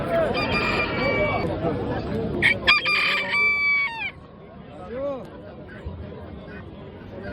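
A rooster crows loudly amid a busy crowd of chatter and other fowl, with a second shorter crow following under the noise.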